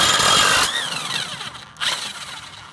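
A power tool with a socket spins out a bolt holding a blade on a John Deere 60D AutoConnect mower deck, giving a close whirring burst that winds down, then a second shorter whir.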